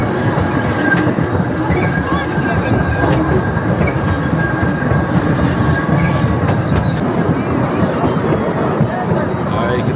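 A zoo train at the Cincinnati Zoo during the nighttime Festival of Lights rumbles steadily along the rails with clacking wheels and a faint squeal, loud and continuous, while people talk over it.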